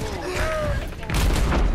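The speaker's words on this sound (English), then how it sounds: "What's that fire shooting at me?" Reaper's shotgun fire in the game Overwatch, a dense, loud barrage of blasts that swells near the end, with a player's voice talking over it.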